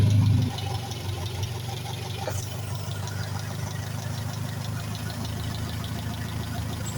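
A small engine runs steadily after a new spark plug is fitted, giving a close, loud, even idle with a rapid regular beat and no misfiring, and no talking over it.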